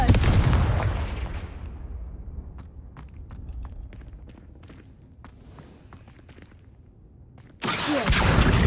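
A Confringo fire spell blast in Hogwarts Legacy on PS5 Pro, a loud burst at the start that fades over a couple of seconds, scattered light impacts and ticks in a quiet stretch, then another loud blast near the end.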